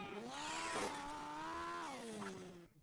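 Car engine revving in the mobile racing game Hill Climb Racing 2, a steady buzzing drone that rises and falls in pitch over a few seconds before cutting off, with no talk over it.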